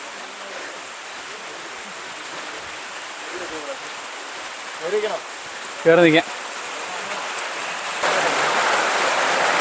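Heavy summer rain pours near the Edakkal Caves in Wayanad, Kerala, as a dense, steady, close hiss that fills the whole clip and swells louder near the end. Someone speaks briefly over the downpour.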